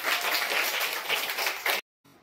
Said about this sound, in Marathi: भक्तीसाठी टाळ्या वाजवा